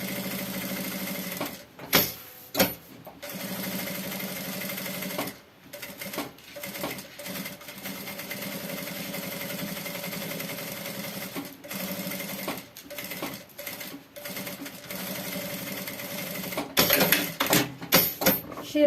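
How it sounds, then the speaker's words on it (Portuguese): A sewing machine runs steady seams around a backpack's lining and pocket for a 2-in-1 bag, whirring in long continuous bursts broken by short pauses, with a busier stretch of stitching near the end. "a gente vai fazer uma costurinha de segurança em toda a volta"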